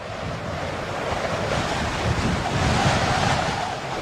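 Ocean waves rolling onto a beach, a continuous broad wash of surf mixed with gusting wind on the microphone, steady and moderately loud with a gentle swell toward the end, no voices.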